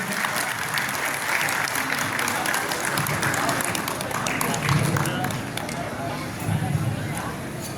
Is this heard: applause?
yes